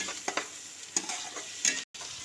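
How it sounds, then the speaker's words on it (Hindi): Tomato sizzles as it is fried with ginger garlic paste and chilli powder for a mutton brain fry, with a few scraping stirs over a soft steady hiss, close and without speech. "ये टमाटर एक डाल रहे हैं, बताइए। थोड़ी देर इसको भून देंगे।"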